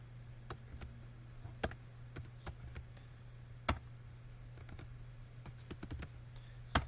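Typing on a computer keyboard at a DOS command prompt: sparse, irregular key clicks, close and quiet, over a steady low electrical hum with no talking.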